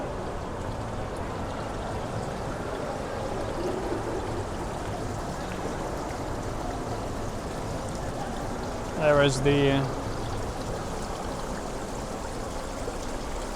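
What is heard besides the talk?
infinity edge water feature flowing in a shopping mall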